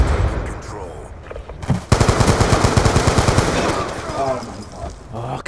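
Light machine gun fire in an online first-person shooter, long rapid sustained bursts after a brief pause, loud and close, with a voice talking over it.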